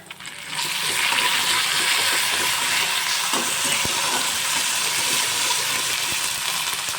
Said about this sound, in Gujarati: હવે હું અડધી ટીસ્પૂન જેટલી આદુ મરચાં અને લસણની પેસ્ટ હવે એને પણ હું સાંતળી લઈશ તેલમાં